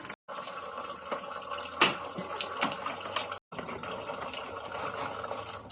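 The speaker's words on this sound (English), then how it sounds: "we got a little drain valve opened up there, so we'll let that bleed most of the coolant out" Coolant from a 2011 Honda CR-Z trickles and splashes steadily out of an opened radiator drain valve, a close, hissing liquid flow with a couple of brief breaks.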